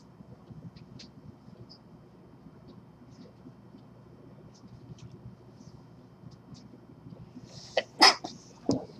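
A quiet room with faint low murmur, then a single sharp sneeze near the end followed by a brief cough-like burst.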